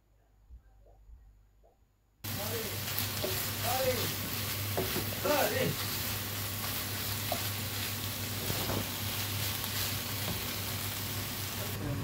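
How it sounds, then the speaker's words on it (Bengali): Three pieces of fish fry in a pan at home, a steady broadband sizzle starting abruptly after a quiet opening and continuing loud and close, with brief voice fragments and faint clinks over it. "তিন পিস বল মাছের ভেজে নিতেছি"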